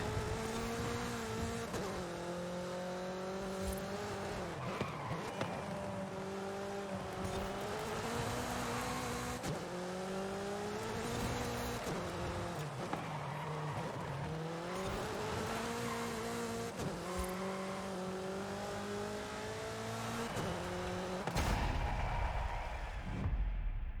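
Race cars roar through an event in the video game Forza Horizon 5, engines revving up and down in steady sweeps with shifting gears, loud and continuous throughout, ending with a brief drop.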